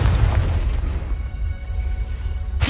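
A Confringo blasting spell from Hogwarts Legacy goes off as a deep, booming explosion, heavy and loud at the start and then rolling into a rumbling decay, with no voices.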